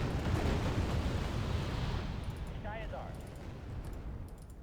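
Bombing explosions in the war strategy game Wargame Red Dragon, a sustained broadband rumble of blasts with a brief whistling sweep partway through, loud and continuous under a player's voice.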